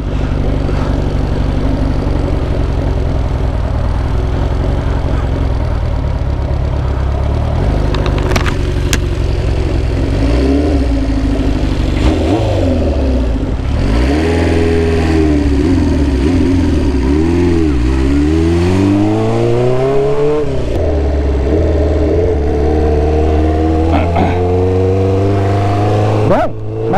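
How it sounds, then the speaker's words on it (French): A Honda CB 500 Four cafe racer's inline-four engine revs loudly and close up, rising and falling in pitch through repeated throttle blips over a continuous rumbling idle. "l'élément le plus marquant sur cette moto, vous l'avez entendu depuis tout le début, c'est le son"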